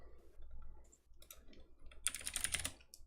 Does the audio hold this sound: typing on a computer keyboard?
yes